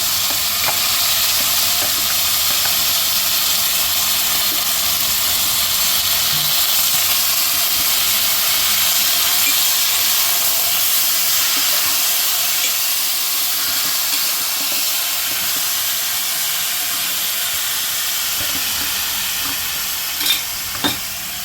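Chicken pieces dropped into hot oil in a pan for a chicken curry, frying with a loud, continuous close hiss and sizzle and a few faint clinks near the end, no talking.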